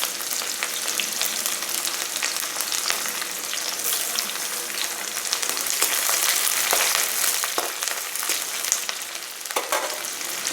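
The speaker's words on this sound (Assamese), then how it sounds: "এতিয়া মই পিঁয়াজখিনি অকণমান ৰঙা হোৱালৈকে ভাজি ল'ম।" Finely chopped onion fries with whole cumin seeds in hot oil in a pan, a steady, dense sizzle that stays loud and even throughout, with occasional small pops and no talking.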